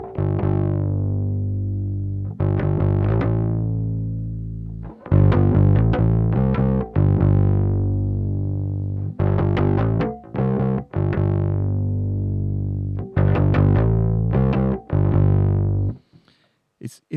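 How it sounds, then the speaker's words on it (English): Electric guitar chords run through a Great Eastern FX XO variable crossover pedal with the crossover frequency set higher, driven and distorted on the upper band while the lows stay clean; loud repeated strummed chords ringing out in phrases. "So let's try moving this crossover frequency up."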